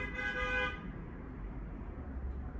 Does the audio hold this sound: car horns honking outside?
yes